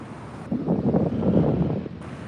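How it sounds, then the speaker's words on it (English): Ocean waves wash against the shore at the San Francisco Marina while steady wind buffets the microphone, a continuous surging roar that swells through the middle of the stretch, with no one talking. "the waves out here are very soothing."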